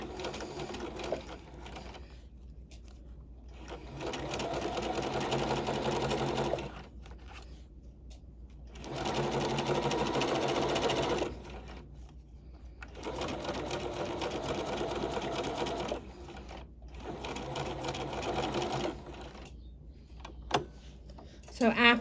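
A sewing machine stitches a garment side seam in several sustained close runs of rapid whirring, separated by pauses where someone talks.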